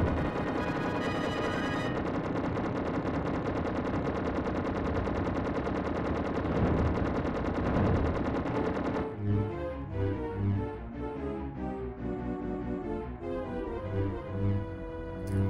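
Rapid, relentless blaster fire from the 1993 Super Nintendo game Super Empire Strikes Back, dense continuous shooting over game music, then thinning into sparser bursts alongside a bouncing chiptune melody; no voices.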